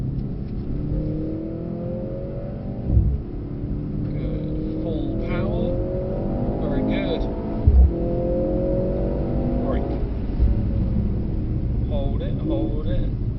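A Mercedes-AMG C63 S E Performance engine climbs steadily in pitch as the car accelerates, then eases off for braking, repeating in rising sweeps with a couple of soft thumps, under continuous instructor talk.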